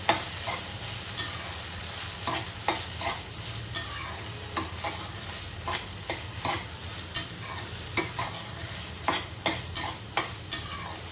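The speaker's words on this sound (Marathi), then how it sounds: "हे 2 ते 3 मिनिटं रोस्ट करून घेऊया सगळं एकत्र।" Green peas, coriander and spices for a matar kachori filling are roasted in a pan, a steady sizzle under brisk, rhythmic spatula scrapes and clacks repeating roughly every half second, close and prominent throughout.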